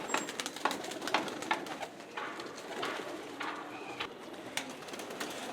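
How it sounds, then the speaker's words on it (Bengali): Local and high flyer pigeons cooing in a loft, a soft, steady stream of overlapping coos and wing flutters under a faint room ambience, moderately distant. "এখানেও দেশি কবুতর এবং হাই ফ্লায়ার কবুতর মিলানো ঝিলানো আছে"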